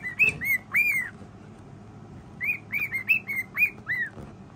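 A pet bird chirps indoors in a run of bright, whistled tweets, a pair of calls first and then a quick series after a pause, close and clear over a quiet room.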